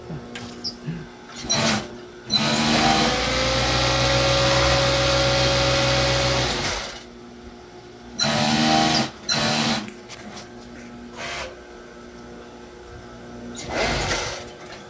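A sewing machine stitching a piping seam with a Pegasus machine, running in several bursts: one long run of about four seconds, then shorter start-stop runs, loud and close with quiet pauses between.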